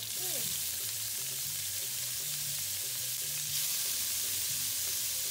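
Squid sizzling in a hot pan for a seafood paella, a steady close frying hiss with crackles throughout, and a low hum of background music beneath it.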